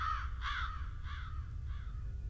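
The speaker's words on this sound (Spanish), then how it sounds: "despertando a unos cuantos pájaros, los cuales, con sus funestos trinos, entorpecieron los sentidos del lobo" Several crows in a forest give four harsh caws in a slow, irregular rhythm over a low rumbling background, creating an ominous audio drama effect.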